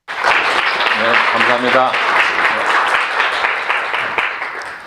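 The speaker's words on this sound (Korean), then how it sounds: "큰 박수로 환영해 주시면 감사하겠습니다" Applause from a conference audience at the Korean Astronomical Society's 111th meeting, welcoming an invited lecturer. Dense, steady clapping fills the whole stretch, with a voice briefly speaking over it.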